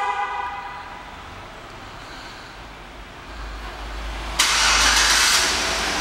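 A 2008 Chevrolet Avalanche LT engine starting by remote start, heard from outside as a rising rumble that catches and settles into a steady, fairly loud idle after a quieter stretch of background noise.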